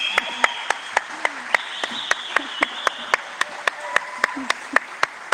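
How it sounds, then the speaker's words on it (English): An audience gives a round of applause at a fireside chat, sharp regular claps standing out over a background with other sounds and voices. "I think she deserves another round of applause."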